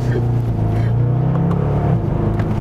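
A 525-horsepower Mercedes E63 AMG V8 engine pulls hard under acceleration with a loud, deep, continuous rumble heard up close.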